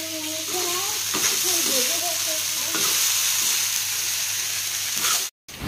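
Maggi noodles sizzle loudly in a hot kerahi wok while being stirred and scraped, a steady frying hiss throughout with a few voices talking over it before a brief cutoff near the end.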